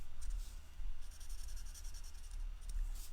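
A marker rubs back and forth over paper while coloring in a stamped butterfly image, giving a soft, steady scratchy squeak in close, quiet repeated strokes with no talking.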